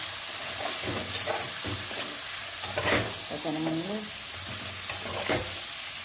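A spice tempering for a fish dish sizzles and spatters inside a covered pan, a constant hiss broken by small crackling bursts, while a person speaks briefly over it.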